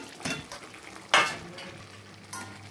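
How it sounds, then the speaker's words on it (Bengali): Potatoes go into a pan of chicken curry and give a sharp burst of sizzling. A few quieter stirring and frying sounds come before and after, all fairly faint. "এবার আলুগুলো ঢেলে দেবো।"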